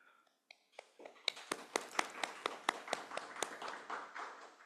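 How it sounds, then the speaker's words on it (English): An audience's round of applause at a community service talk, starting with a few scattered claps and building into steady, moderately distant clapping from a room full of people. "give a round of applause for Sarvadharma Service Center"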